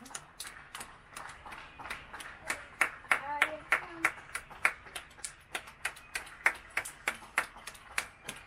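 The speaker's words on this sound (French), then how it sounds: "pendant qu'on applaudissait" A small group of people claps in a steady, rhythmic beat, sharp distinct claps at close range repeating for several seconds, with voices talking and murmuring underneath.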